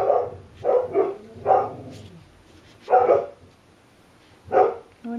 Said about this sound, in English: I wonder if every dog hates delivery trucks as much as mine do